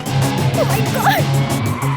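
A car in a comedy movie scene drives fast, with loud, close tire squeals sliding up and down in pitch over a steady engine drone.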